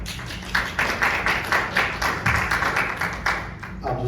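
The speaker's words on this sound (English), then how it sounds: "if we could hold the applause until the end of this" Audience at a city commission candidate forum applauds, a dense run of many hands clapping at moderate loudness that carries on steadily for several seconds.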